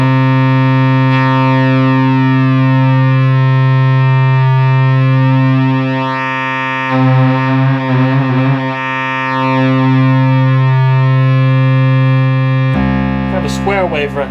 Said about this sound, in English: You're kind of hearing like a sawtooth right now.